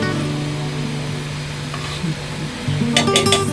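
Prawn curry (kolambi rassa) sizzling in a pan while being stirred, a close steady frying hiss with a few scraping and clinking stirs growing louder at the end.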